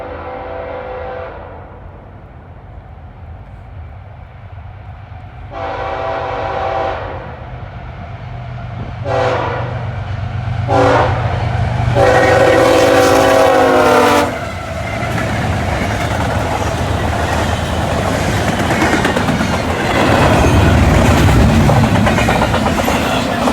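Freight locomotives, a GEVO and an AC44C6M, pass close by with loud horn blasts, then a heavy rumble and rhythmic pounding of wheels over a diamond crossing that grows louder and continues.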